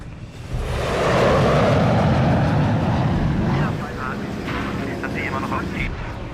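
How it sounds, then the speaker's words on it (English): A Nazi jet aircraft roars overhead in a wartime movie scene, a loud, broad rushing engine noise that swells and then fades into a lower rumble, with voices and other movie sounds mixed in. "It's a goddamn Nazi plane. They've got jets too?"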